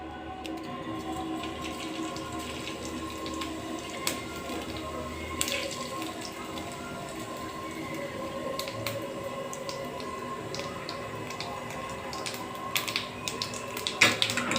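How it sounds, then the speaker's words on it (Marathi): Cumin seeds for tempering hit hot oil in a pan and give a continuous crackling sizzle with scattered sharp pops. The sound stays fairly quiet and close, with no talk over it. "आता आपण याच्यात टाकूया जिरे"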